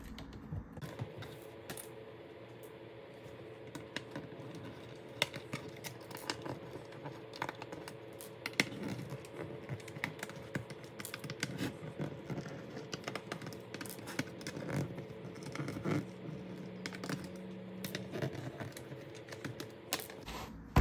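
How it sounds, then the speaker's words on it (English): Small screws are worked out of a PS2 console casing with a screwdriver, giving soft irregular clicks, ticks and light metallic taps close by and fairly quiet, with no talking. "Now that we've got all the screws out, we'll flip it over."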